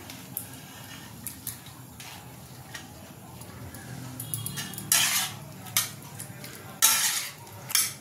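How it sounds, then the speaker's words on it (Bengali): Uncooked pasta drops into a pan of vegetables and egg white and is stirred, with spoon scrapes and clatter against the pan rising into a few sharp bursts near the end over a low background hum. "এবার এর মধ্যে পাস্তাটাও দিয়ে দেবো।"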